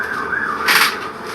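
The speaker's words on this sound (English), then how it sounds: "I can hear all the sirens in the background." Emergency vehicle sirens wail in the background, a steady rising and falling tone with a brief louder burst of noise partway through.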